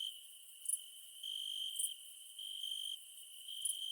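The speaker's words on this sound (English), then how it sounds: "the crickets are laughing their butts off." Crickets chirping in steady, pulsing trills, a faint, even outdoor chorus with a few sharper high chirps and no voices.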